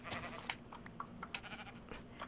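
Minecraft sheep bleat in quick, repeated, nasal calls over a low steady hum, several short bleats overlapping close by across a couple of seconds.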